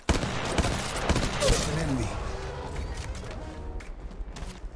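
Gunfire in the mobile battle royale Apex Legends Mobile, dense bursts of rapid shots and impacts crackling loudly throughout, with a voice briefly under the shooting.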